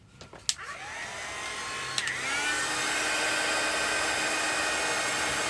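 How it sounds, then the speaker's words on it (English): Heat gun blowing on a craft project, a steady broadband airy whoosh that starts after a couple of clicks and holds loud and constant to the end. "I'm going to give that a waft with my heat gun."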